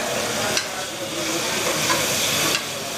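About a quarter kilo of spinach fries in a pan and is stirred. A loud, close, steady sizzling hiss fills the clip, broken by a couple of brief scraping stirs.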